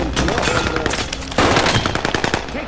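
Rapid machine gun fire in a video game crackles in dense bursts throughout, growing louder partway through, with a voice briefly talking in the mix.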